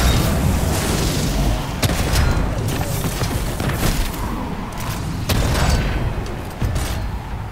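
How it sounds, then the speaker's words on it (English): Shotgun blasts in Destiny 2: Beyond Light, a few heavy booming shots spaced several seconds apart over a dense, continuous layer of loud game combat noise. "I like this shotgun a lot."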